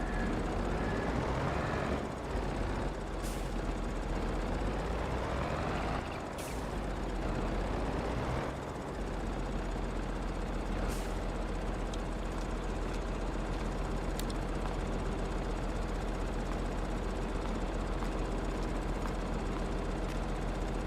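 A small tractor engine in Farming Simulator 22 runs with a steady low drone and whining harmonics that rise and fall as revs change, with a few brief clicks over the continuous hum.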